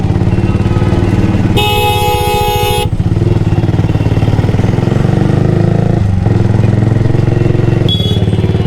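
A Yamaha R15 V3 motorcycle engine drones steadily up close while it creeps through a traffic jam near Namabazar bridge in Dhamrai, and one long blaring horn blast is followed by a shorter honk near the end.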